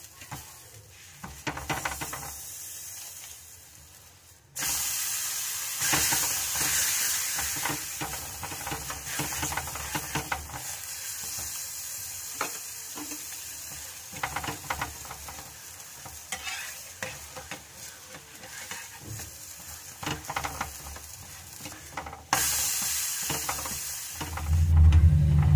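Makka-bathua paratha frying in butter on a pan, a steady hiss and sizzle with scraping and stirring noises, growing louder after a quiet start and swelling again near the end.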